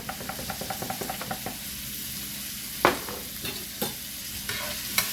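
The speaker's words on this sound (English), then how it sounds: "Stir this around a bit" Vegetables with black pepper are stirred in a pan: a quick run of even scraping strokes at first, then a soft, continuous sizzle broken by a few sharper knocks of the utensil against the pan.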